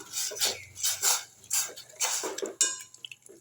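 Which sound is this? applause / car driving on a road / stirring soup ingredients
stirring soup ingredients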